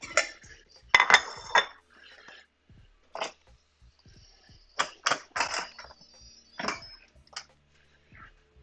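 Dishes and cutlery clink in sharp, scattered bursts as miso-glazed salmon is plated into bowls, several close, bright clatters with quiet gaps between them and no talk.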